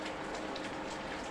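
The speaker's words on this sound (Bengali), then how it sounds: "তো বৃষ্টি এসে গেছে" Steady rain falling outdoors, a dense, even hiss of drops on surfaces with no gaps, close and moderately loud, no voices.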